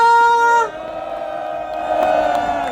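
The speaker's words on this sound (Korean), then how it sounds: "우리 행진하고 오신 우리 모두에게 큰 박수 부탁드립니다" A crowd at a Daejeon citizens' rally cheers and applauds in a steady, loud wash after marchers arrive, following a brief sustained tone at the start.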